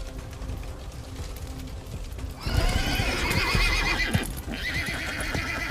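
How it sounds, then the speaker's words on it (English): Terrified horses in a video game neighing shrilly and stampeding with heavy clattering hooves as they trample over ruined stable fencing, a loud whinny rising over the rumble of hoofbeats. "The terrified horses trample over the ruined fencing and scatter."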